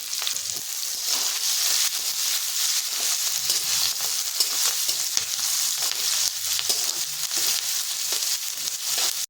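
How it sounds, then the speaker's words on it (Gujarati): Sliced onions sauté in oil in a pan for hotel-style sambar, giving a steady, dense sizzle and crackle that holds evenly and close throughout, with occasional soft stirring scrapes and no talking. "ડુંગળીનો આપણે અહીંયા કલર બદલાય ત્યાં સુધી આપણે ડુંગળીને સરસ સાતડીશું"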